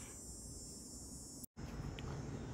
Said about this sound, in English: there are a bunch of bees around too, because apparently they like the smell of sardines as well